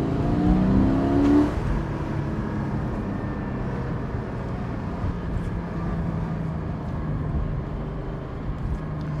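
A Porsche 718 Spyder with manual top revs its engine hard to high rpm, the exhaust note rising loudly at first, then settling into a sustained, droning engine tone through the rest of the stretch.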